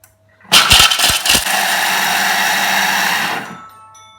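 A Thermomix whirs loudly at speed 8 for about six seconds, blending chocolate tart filling with a lid and measuring cup in place, starting with a few rough knocks before settling into a steady high whine that winds down.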